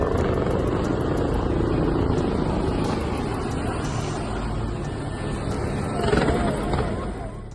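A helicopter drones overhead with a steady rotor rumble, swelling slightly louder toward the end, amid faint background noise.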